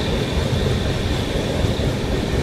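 The Duranto Express rolls through a sharp curve with a dense, constant roar of wheels and carriage rumble, loud and close from on board, steady throughout without any voices.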